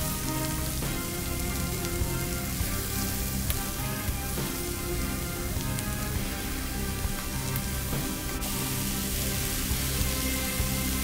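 Onions and peppers frying in oil for an eggplant moussaka filling, giving a steady, dense sizzle and crackle that runs unbroken and fairly loud throughout, with no voices over it.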